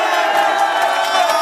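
A crowd at an outdoor election rally press event in Jamsil, Seoul, roars with sustained cheering and shouting, loud and dense throughout with no pauses.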